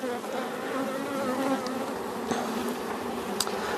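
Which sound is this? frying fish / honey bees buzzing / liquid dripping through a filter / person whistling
honey bees buzzing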